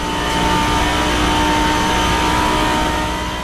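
Car engine revving near 8000 RPM in the Assetto Corsa racing game, a loud, sustained high-pitched mechanical whine with a steady droning tone that holds constant throughout.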